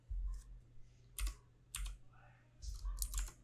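Computer keyboard keys typed in short bursts of quick clicks while a formula is entered into a spreadsheet cell, close and fairly quiet, with pauses between bursts and a low steady hum underneath.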